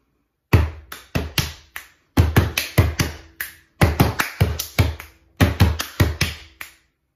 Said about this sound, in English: this is the TikTok hand clap challenge